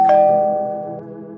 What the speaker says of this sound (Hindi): उसने डोरबेल बजाई